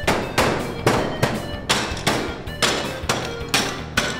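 A toy hammer at a children's museum strikes in a steady, even rhythm, about nine sharp close knocks roughly half a second apart, each with a short ringing decay.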